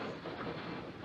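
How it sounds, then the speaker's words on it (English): Railway carriages rumble steadily on the tracks as a train pulls away from a station platform, a continuous close, moderately loud rolling noise with faint clatter throughout. "The train is leaving."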